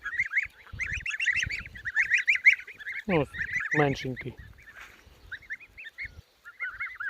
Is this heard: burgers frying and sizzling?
no